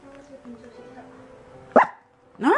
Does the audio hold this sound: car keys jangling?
no